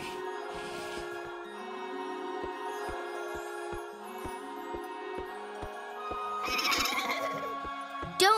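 Light tonal music with a steady clopping beat, then a horse whinnies near the end.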